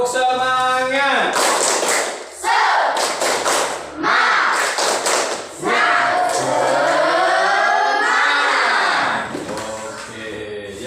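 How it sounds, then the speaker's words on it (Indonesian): A classroom of students does a rhythmic spirit clap, several bursts of patterned group clapping alternating with children's voices chanting and talking loudly. "Coba kita tepuk semangat"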